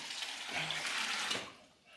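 Water from a pot gushes and splashes steadily into a hot tub for a couple of seconds, a broad pouring rush that tapers off near the end.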